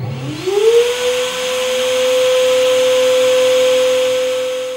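A cooling fan on an FLSUN T1 3D printer spins up to full speed during warm-up, rising quickly in pitch and then holding a loud, steady whine with an airy vacuum-like rush, close by.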